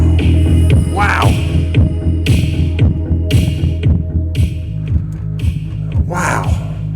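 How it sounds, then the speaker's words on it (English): Deep, throbbing bass thumps from a KEMIMOTO Midnight 80 G2 soundbar subwoofer mounted in a side-by-side UTV, a loud rhythmic pulse of low booms with no talking. "I got a subwoofer in here."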